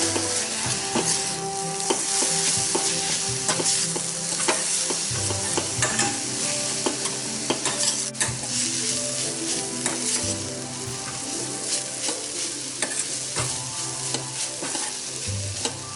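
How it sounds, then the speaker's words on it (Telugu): Vinegar being stirred into momo filling in a pan, a continuous close scraping and sizzling with frequent sharp clicks of the spoon, steady throughout with no talking. "1 స్పూన్ వెనిగర్, బాగా కలుపుకోవాలి"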